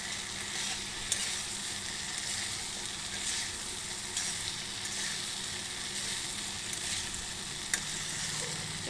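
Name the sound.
soybean and potato frying in spice masala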